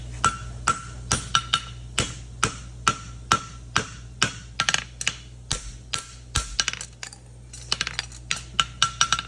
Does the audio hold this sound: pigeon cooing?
no